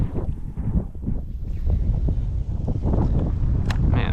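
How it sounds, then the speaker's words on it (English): Strong gusty wind buffets the microphone outdoors while fishing, a continuous low roar and rumble, swelling and easing throughout, with no voices. "this wind has really picked up"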